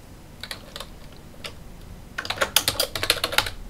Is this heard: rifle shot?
no